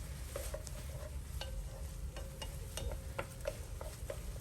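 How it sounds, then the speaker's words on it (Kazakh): Tomato paste and smoked paprika fry in a pan, a quiet low sizzle overlaid with rhythmic light ticks and taps from a spoon stirring against the pan. "Енді 2 ас қасық томат салып, тағы да 3-4 минуттай қуырамыз."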